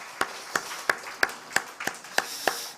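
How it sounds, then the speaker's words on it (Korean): A church congregation claps in slow unison, eight evenly spaced claps at a steady rhythm, quiet and somewhat distant in a large worship room, with no voices over them. "우리 왕이신 하나님께 우리 다시 한번 영광의 박수 한번 올려드리기를 바랍니다"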